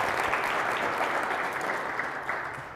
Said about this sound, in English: let's give a round of applause for Kevin for a great demo